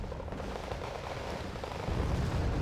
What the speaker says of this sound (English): M4 coming in, going to be dropping in the bombs